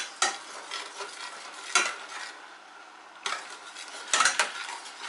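Utensil stirring Thai tom ka soup in a cooking pot, with a few distinct scraping, clinking strokes against the pot separated by quieter gaps, close and fairly soft.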